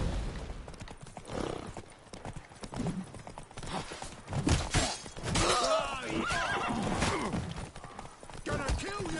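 A horse whinnies and its hooves clip-clop amid a noisy fight in The Witcher 3, the neighing rising loudly partway through over clashing combat sounds, with voices shouting throughout.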